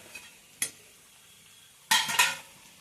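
Prawn shukto being stirred in a pan, heard as a short scrape early on and then a louder cluster of scraping and clattering strokes near the end, with quiet kitchen background between.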